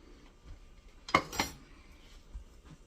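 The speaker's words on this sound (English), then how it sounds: "just whisk them all together really well" A whisk clinks twice against a mixing bowl as ingredients for Linzer thumbprint cookies are combined, two sharp, close utensil strikes in an otherwise quiet kitchen.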